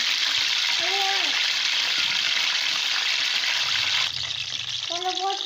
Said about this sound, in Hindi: हमारे रोल जो है फ्राई हो रहे हैं